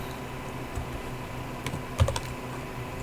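Typing on a computer keyboard while writing web code, with soft, sparse key clicks and a slightly louder cluster of taps near the middle over a faint steady background hum.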